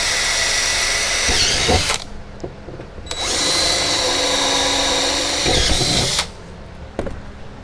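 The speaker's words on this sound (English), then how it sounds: "I'm going to go ahead and drill those" A power drill whines into aluminum in two long bursts separated by a short pause, loud and close, with a high-pitched grinding edge.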